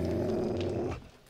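A dog in the video game 7 Days to Die lets out a low, rumbling growl, close and sustained for about a second before cutting off abruptly.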